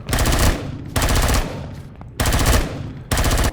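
Turret guns fire in the video game Empyrion, loud rapid machine-gun bursts in four separate volleys, each broken by a brief gap.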